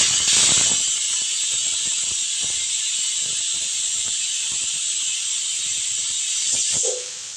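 Ingredients sautéing in a kadai give off a steady, loud, continuous sizzle and hiss with faint crackles throughout, easing off slightly right at the end.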